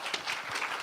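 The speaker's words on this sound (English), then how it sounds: "May we have a round of applause for him." A short burst of audience applause at the launch of the WHO-SEARO Youth Council health event: dense, even clapping from a crowd, heard alone for under a second.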